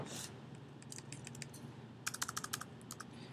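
Keys clatter on a computer keyboard in a quiet office setting, with a few scattered taps followed by a quick burst of rapid typing, close and fairly soft.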